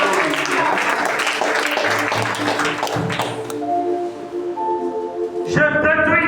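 A church congregation applauds loudly, with dense, steady clapping that thins out and gives way to sustained musical tones near the end.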